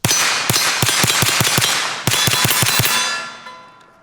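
A Glock bullpup pistol fires rapid shots at a steel target, each crack followed by a ringing metallic clang, in two fast strings of about eight shots each separated by a brief pause, ending in a fading ring.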